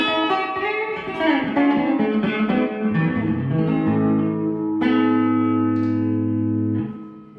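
A clean Stratocaster electric guitar through a valve amp plays a descending run of notes, then lets several chords ring out with sustained, undistorted tone before fading.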